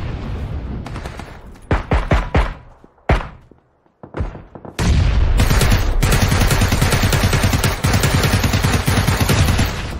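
Gunfire in the military shooter game Squad: a few separate sharp shots, then several seconds of dense, continuous loud automatic fire with heavy low booms, close and dominant with no talk.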